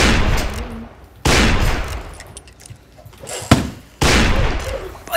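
Several loud gunshot-like bangs ring out in bursts, with sharp broadband blasts and decaying tails, separated by quieter gaps of background noise.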